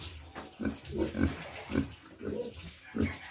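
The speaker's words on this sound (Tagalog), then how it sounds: "Yan yung inahing baboy." A large sow grunts in a farmyard pen after being bathed, with about six low rhythmic grunts spaced roughly half a second apart, close and clear.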